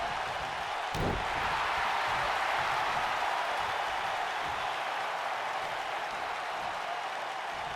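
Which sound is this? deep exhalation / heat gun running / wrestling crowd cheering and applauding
wrestling crowd cheering and applauding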